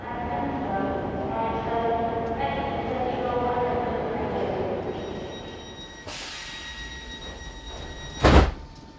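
A train at a station, staged as a radio play: a steady low rumble and hum of the carriage fades down, then a sliding door or brake clunk gives a sharp, loud burst near the end.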